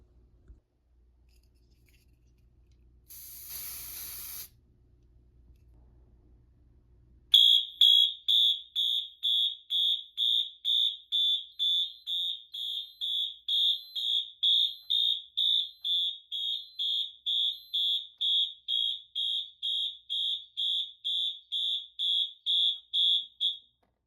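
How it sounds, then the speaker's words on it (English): An FCI 7200 micro fire alarm panel's internal piezo on the power supply, set off by a smoke detector: a high, thin beeping that pulses rapidly and evenly for over fifteen seconds after a brief rustle and quiet handling. "It's pretty quiet, but there is an internal piezo on this panel."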